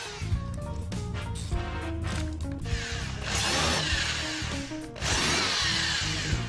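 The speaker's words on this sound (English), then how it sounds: "Once we've cut the frame material, we drill and countersink ready for assembly." A power drill bores and countersinks holes in wooden frame pieces for a bookshelf, with loud whirring bursts and grinding bites into the timber, the tool rising sharply twice over a busy workshop background.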